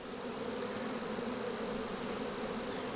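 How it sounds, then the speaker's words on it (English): A steady, dense buzz from many honey bees pouring out of a fumed hive as honey supers are pulled, a continuous close swarm drone with no pauses. "a whole bunch of the bees are vacating the hive"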